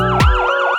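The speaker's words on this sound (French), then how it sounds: "C'est le son de la sirène." A wailing siren effect in a French rap track, loud and close, its pitch sweeping up and down in quick waves over a low booming bass hit.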